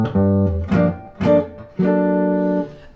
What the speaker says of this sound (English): It's the melodic minor scale.